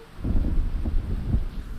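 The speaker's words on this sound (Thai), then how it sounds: "เริ่มจากฝนตก" Minecraft rain and thunder make a steady, dense wash of rainfall over low rolling rumbles, filling the whole stretch at moderate volume without voices.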